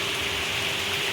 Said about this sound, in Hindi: तो गाइज आप बारिश देख सकते हो, बारिश।